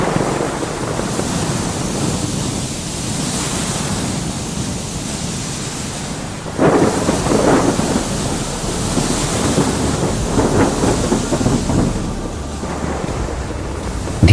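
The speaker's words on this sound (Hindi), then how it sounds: "धीरे धीरे तूफान और तेज होता जाता है और जहाज डूबने लगता है" A storm at sea roars as a sound effect: wind and crashing surf form a steady, loud wash, and a heavier gust or rumble swells partway through and then keeps going.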